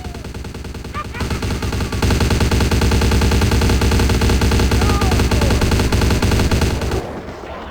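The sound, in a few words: submachine gun fire in Vampire the Masquerade: Bloodlines video game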